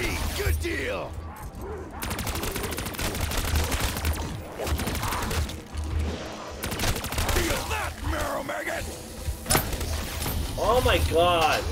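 Dense bursts of gunfire in Call of Duty Zombies on the Ascension map, rapid cracks and rattling volleys with crashing effects throughout, loud and close, with game voices layered over the shooting.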